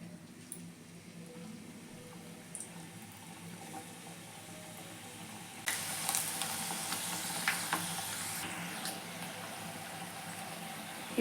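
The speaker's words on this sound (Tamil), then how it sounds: "இப்போ நல்லா பொரிஞ்சு வந்துடுச்சு" Layered badusha dough frying in hot oil, a steady sizzle that grows louder and brighter about halfway through as more bubbling breaks out, with no talking.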